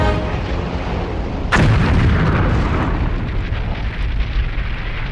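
Bombs and rockets from Avenger aircraft strike tankers, warehouses and a small arms factory, a sharp heavy blast bursting out of a continuous loud roar and rumble, then booming and crackling on with distant echoes.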